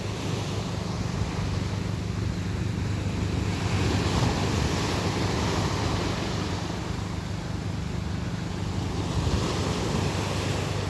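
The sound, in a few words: ocean waves on beach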